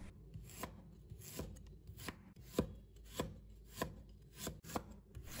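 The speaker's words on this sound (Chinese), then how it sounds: "再准备一块去皮的生姜，把它切成片" Knife slicing peeled ginger on a cutting board, crisp chops landing in an even rhythm roughly every half second, close up and alone.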